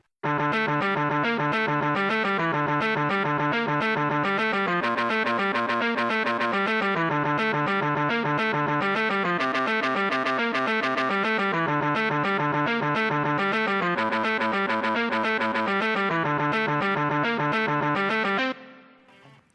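A distorted electric guitar plays a harmony line with effects, a dense rapid run of picked notes sustained loudly for almost twenty seconds before stopping abruptly, alone without talk.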